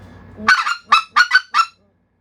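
A specklebelly goose call imitates goose clucks: five quick, sharp honking clucks in a fast burst, then silence.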